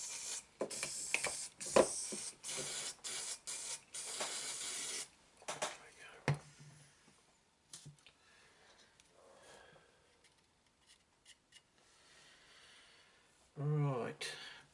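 Short bursts of spray hiss, close and fairly quiet, as small parts of a micro-scale French K091 model locomotive are sprayed, with pauses and soft handling noises between bursts.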